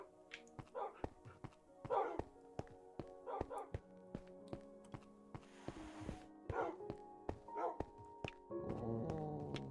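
Dogs in Minecraft bark in short, repeated bursts, several animals overlapping in rapid irregular yips and woofs with thunks and game effects between them, clear and close.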